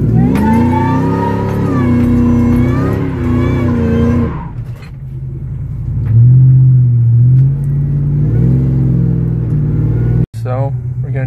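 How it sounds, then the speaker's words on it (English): Supercharged Ford F150 truck engine revving loudly for a burnout, a harsh high rev that drops off, then a deep rumbling pull as it launches, with voices talking over it. "Let's try to do a small burnout"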